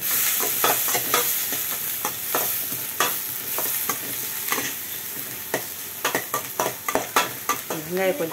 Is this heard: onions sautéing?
yes